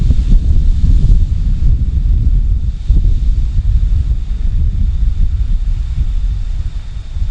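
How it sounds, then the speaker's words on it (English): Strong wind gusts at an outdoor tent campsite in a state park in South Dakota, a loud continuous roar buffeting the microphone with no talking. "It's just way too windy here."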